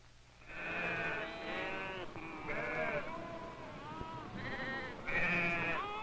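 Sheep in a 1948 film bleat several times in close succession, loud, wavering cries overlapping one another with short gaps between, with no talk.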